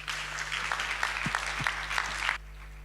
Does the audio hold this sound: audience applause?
yes